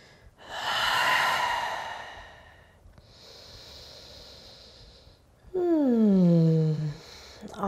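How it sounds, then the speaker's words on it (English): A person breathes deeply while holding a yoga stretch: a long, airy inhale, a softer exhale, then a loud, voiced, sighing breath out. The breathing is close and alone with no talk. "Stay here, breathing deeply,"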